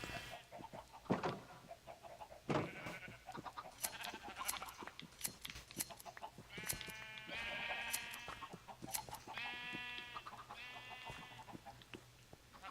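Repeated bleating calls from several sheep in a video game, some drawn-out and wavering, mixed with clucking and scattered clicks in a busy game-like background.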